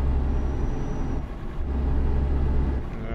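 An MAN TGX 2021 truck in Euro Truck Simulator 2 slows with its air brakes, heavy engine rumble running low and steady, easing briefly before resuming, with a soft hiss near the end.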